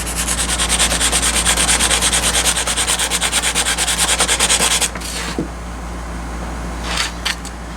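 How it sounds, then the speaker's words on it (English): Sandpaper strokes rapidly back and forth across a vintage power drill in a fast, steady rhythm of close rasping, stopping near five seconds, after which only a few light scrapes follow. "we're going to jump right into sandpaper"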